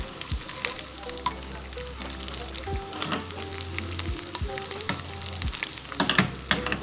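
Garlic fries in oil for molokhia with a loud, continuous sizzle and crackle. Occasional stirring scrapes and a low background hum run beneath it, and nobody talks.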